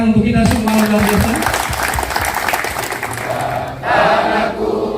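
A crowd of Jakarta neighbourhood RT/RW leaders applauds at an Indonesian political rally declaring support for the AMIN ticket. The clapping is loud and steady throughout, with a voice speaking over it and a brief swell near the end.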